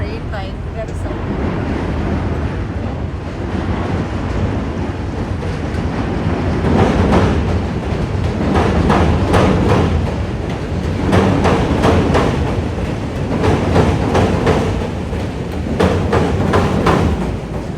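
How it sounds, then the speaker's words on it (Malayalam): A train rumbles past in downtown Chicago, loud and continuous, with rolling clatter swelling and fading over a constant low roar, and voices are faintly present underneath. "ഇവിടെ ട്രെയിൻ ഭയങ്കര സൗണ്ട്."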